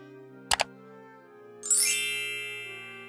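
A notification bell sound effect rings out as a quick, bright double ding, then after a short gap a rising shimmering chime swells and slowly fades, heard alone over a faint steady hum.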